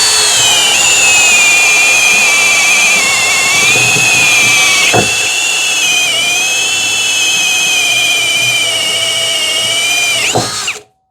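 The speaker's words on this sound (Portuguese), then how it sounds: "broca chata de 1 polegada na velocidade alta para as duas máquinas" A Hanabi Black cordless screwdriver drill on high speed bores into cambará hardwood with a 1-inch spade bit, a loud close motor whine with wavering pitch and a brief dip under load before stopping abruptly.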